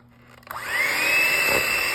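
An electric mixer whirs to life and blends eggs into a batter for a Christmas recipe, its motor rising quickly to a steady, loud, high whine with no voices.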